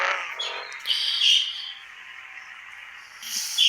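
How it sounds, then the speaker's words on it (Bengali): Birds screech in the Bus Simulator Indonesia driving game, with shrill calls breaking out around the middle and again at the end over a steady engine-like drone. "পাখিগুলো চিৎকার করছে কেন?"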